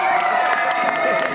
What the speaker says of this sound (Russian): Ваши аплодисменты звучат для них.